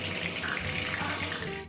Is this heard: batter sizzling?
yes